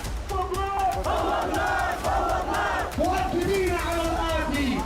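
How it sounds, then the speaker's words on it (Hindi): Thousands of Houthi supporters chant together in a loud, rhythmic roar at an armed rally in Yemen, with voices rising and falling in unison throughout. "हजारों की भीड़ ने हथियार लहराकर अमेरिका और इजराइल की बर्बादी का ऐलान किया है"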